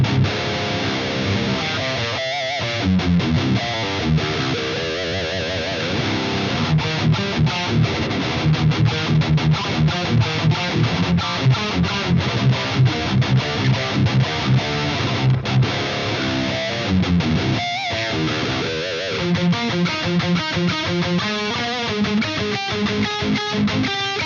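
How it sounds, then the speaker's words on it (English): Electric guitar played through a Marshall JCM2000 Triple Super Lead amp on its Crunch channel, master volume a little over 5, giving a driven, distorted tone with strummed chords and picked riffs that ring out steadily and loudly with no talking. "JCM2000 Triple Super Lead, the Crunch channel, which I think is pretty close to 800."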